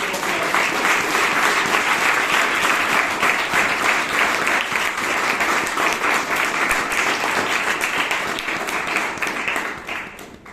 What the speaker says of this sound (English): Please give these 4 wonderful women a big round of applause.